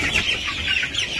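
Chickens cluck steadily in a rural village yard, a dense, continuous chatter of close, moderately loud calls with no talking over them.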